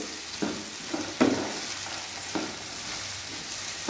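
Raw mixed vegetables sautéing in a pan for veg biryani, a soft continuous sizzle broken by several distinct scraping stirs and taps of the utensil, close and fairly quiet with no talking.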